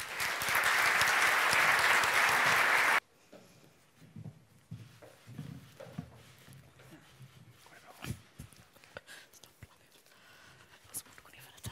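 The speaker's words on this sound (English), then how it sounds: "So give her a warm applause." Warm, dense applause from a conference audience greets the Crown Princess of Sweden at an inaugural event, loud and steady for about three seconds before cutting off to quiet room noise, shuffling and faint murmurs.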